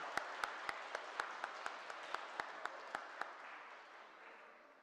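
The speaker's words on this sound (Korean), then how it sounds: "뜨거운 마음으로 축복하며 박수해 주십시오" A church congregation at an Easter Sunday service claps for a confirmed youth group: a soft wash of distant applause, with one nearby pair of hands clapping in a regular rhythm, then the sound fading out.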